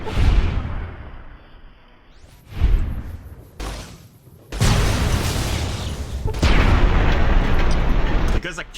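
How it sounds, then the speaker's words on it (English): Loud explosions from energy-weapon kills in a video game, several broadband booms and bursts in succession, some sustained and rumbling, filling most of the clip. "a kill with an energy weapon is an explosion now."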